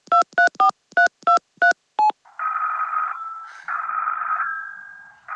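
A telephone is dialed in a radio play: seven crisp touch-tone beeps in quick succession, followed by a longer steady ringback-style tone that breaks and resumes, with no voices.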